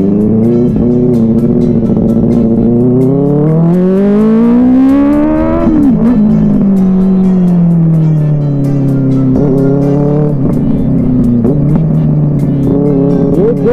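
Benelli 600i sports motorcycle being ridden, its engine loud and close throughout, rising in pitch under acceleration, dropping, then climbing again, with no talk.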